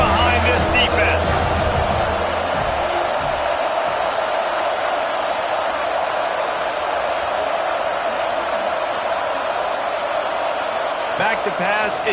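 A stadium crowd at an American football game roars steadily for the defense on third down, a loud, sustained wash of cheering under a commentator's talk.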